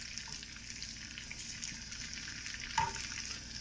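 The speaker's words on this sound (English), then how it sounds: "that's a rapid boil now, and just keep it moving till that butter starts to turn brown" Butter bubbling at a rapid boil as it browns in a pan with red pepper flakes, a steady close sizzle with a brief stir or clink near the end.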